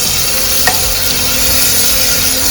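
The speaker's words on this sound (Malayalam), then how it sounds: "ഇനി നമുക്കൊന്ന് വഴറ്റാം." Fish being sautéed in a pan with salt and curry leaves, a continuous close sizzle with soft stirring scrapes and one sharper tap of the spoon.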